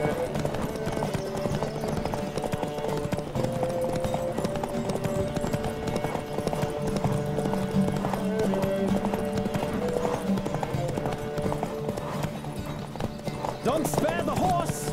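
Horse galloping during a race in The Witcher 3, rapid rhythmic clip-clop of hooves running steadily throughout, with voices talking over the hoofbeats and a brief whinny-like sound near the end.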